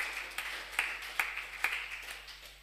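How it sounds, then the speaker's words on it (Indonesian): Faint, steady rhythmic clapping from a church congregation at a Sunday worship service: about six evenly spaced claps, each a little under half a second apart, with no talking. "Tepuk tangan buat nama Tuhan."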